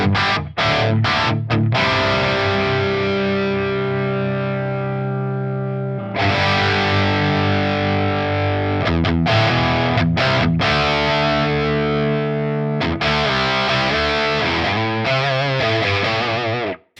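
Heavily distorted electric guitar through a Line 6 Metallurgy modern amp setting, loud and continuous with sustained chords and brief choppy muted breaks, played alone.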